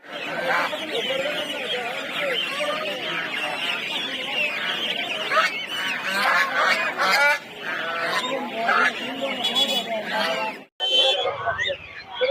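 A dense chorus of honking geese, Chinese geese and quacking ducks fills the busy outdoor Putia market in Narsingdi, Bangladesh, loud and continuous, with people talking underneath.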